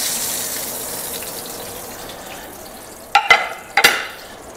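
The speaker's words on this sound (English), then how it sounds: "So we're just supposed to be browning them at the point here." Pieces of food brown in hot oil in a pan, giving a soft steady sizzle, then two sharp louder bursts of spattering near the end.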